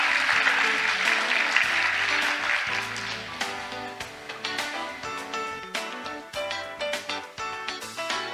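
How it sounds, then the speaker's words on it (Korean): At a conference opening ceremony, an audience applauds to welcome a keynote speaker. Dense clapping starts strong and thins into scattered claps, with music-like tones underneath. "큰 박수로 환영해 주시기 바랍니다"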